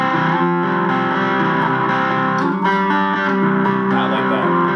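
Distorted electric guitar plays a song, a loud, dense, sustained chordal passage with effects, steady throughout with no talking.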